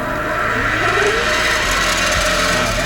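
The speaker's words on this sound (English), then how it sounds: "Let's spin it up and let's try a cut, see what happens." A machine spindle spins up to a couple thousand RPM for a first cut. It gives a loud, steady mechanical whir and hum with a faint rising tone. No one speaks.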